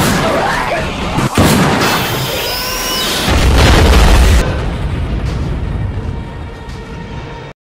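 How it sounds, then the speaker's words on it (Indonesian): A fuel tank blows up in a zombie film, a heavy booming blast with a deep rolling rumble and crashing debris, loud and close before trailing off. "untuk terakhir kalinya dia menciptakan ledakan, yang mana kali ini menggunakan tangki bahan bakar"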